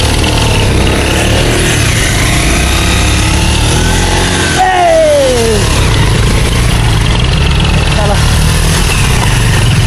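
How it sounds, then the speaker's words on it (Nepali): A tractor engine rumbles loudly close by and steadily throughout on a rough, poor road, its pitch shifting as it moves past, with voices heard at times. "ट्र्याक्टर पनि आयो यहाँ।"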